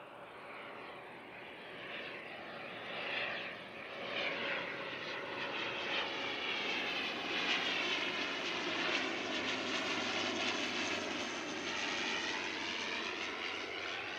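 An ATR turboprop airliner arrives, its engine roar steady and fairly loud throughout, swelling slightly midway with a broad rushing drone and no talk.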